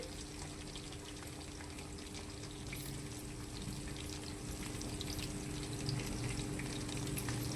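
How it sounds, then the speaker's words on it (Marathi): Soybean chunks frying in a pan for Chinese-style veg noodles give a steady, faint crackle and sizzle that runs unbroken from start to finish, with a low background hum underneath. "आणि सोयाबीन तळते आहे."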